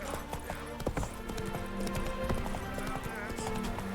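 Roach, Geralt's horse in The Witcher 3, clip-clops along with steady hoofbeats over a busy game soundscape while voices talk.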